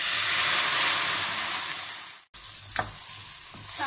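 Mushrooms hit a hot pan and fry with a loud, dense sizzle that fades. After a brief cut, a quieter crackle goes on with a few stirring scrapes.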